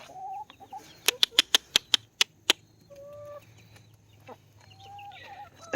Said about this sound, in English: there's the guinea fowl and the baby chickens